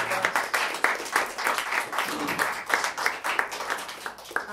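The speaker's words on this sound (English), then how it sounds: "Let's have a round of applause for all of us." An audience at a senior school recital claps at moderate volume, a steady crackle of many hands with individual claps audible, slightly distant and fairly soft.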